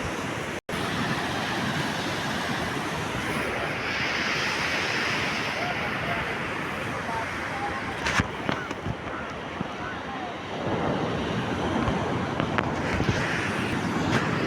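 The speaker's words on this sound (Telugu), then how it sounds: "ఆ వాటర్ అంత దూరం ఉంది కదా అంత భారీగా ఎగిసే కెరటం" Sea waves break on Visakhapatnam beach along the beach road in a constant, loud surf wash, with crashes swelling toward the end and a faint voice underneath.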